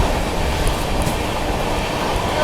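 The Mahabodhi Express crosses slowly on the rails, a dense steady rumble and roar of the passing train that stays loud and close throughout.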